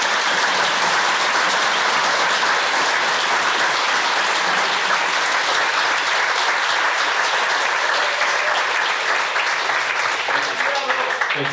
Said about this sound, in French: je vous propose de les applaudir très très fort